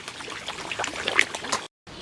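Ducks splashing and dabbling in water while feeding, producing a steady close trickle and patter of small splashes before a brief dropout.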